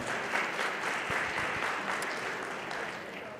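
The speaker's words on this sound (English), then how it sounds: "You're going to clap for this one, by the way." An audience applauds at the IAC National Summit: steady, dense clapping from a large crowd that fills the room evenly throughout.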